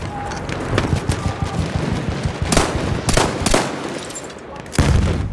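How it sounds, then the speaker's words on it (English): Three-round burst weapon firing in Battlefield 1 online gameplay, sharp close bursts of gunfire punctuating a noisy battlefield with distant shots and explosions, with a voice talking briefly under the action. "this is a three-round burst weapon"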